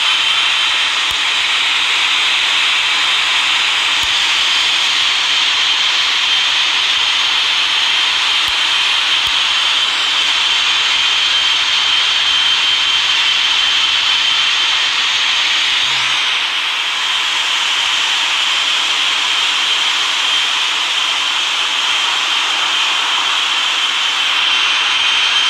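A Boeing 777-300ER in the RFS flight simulator game rolls for takeoff, its jet engines making a steady, loud, unchanging roar and hiss for the whole stretch, with no one talking.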